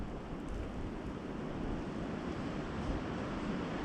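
Steady wind gusts rush across an ice-covered pond during an ice fishing outing, a continuous broadband roar with microphone buffeting and no voices.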